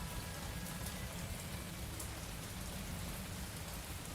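Steady rain falls in the video game Mon Bazou, a dense, even hiss of drops on surfaces that holds constant throughout with no other sounds.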